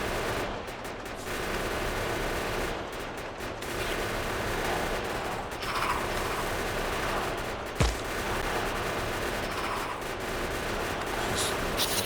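Continuous turret gunfire in the video game Factorio, a dense unbroken rattle of bullets against a heavy noisy background, steady in loudness with one sharp louder crack partway through.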